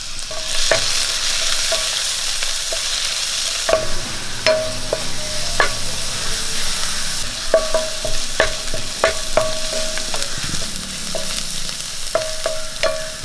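Mustard seeds, crushed shallots and garlic sizzle in hot oil with a constant hiss, broken by sharp popping crackles and occasional stirring scrapes in the pan.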